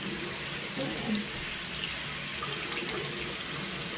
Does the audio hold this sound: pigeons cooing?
no